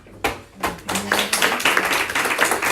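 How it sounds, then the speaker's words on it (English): An audience at a California community book event starts clapping, a few scattered claps at first that quickly thicken into steady, close applause from a room of people. "as soon as you start clapping"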